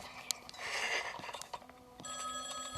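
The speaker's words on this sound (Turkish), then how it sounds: "Telefon çalıyor, telefon çalıyor." Telephone ringing inside the horror video game Eyes the Game, a bright repeating electronic ring that starts partway through and sustains steadily at moderate level over a busy game soundscape.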